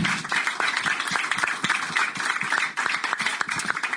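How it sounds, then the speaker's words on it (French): Live comedy audience at a Longueuil stand-up show applauding a comedian, a steady dense wash of many hands clapping at close range, continuous and fairly loud with no talk over it. "est-ce qu'on peut applaudir Alex Huang, s'il vous plaît?"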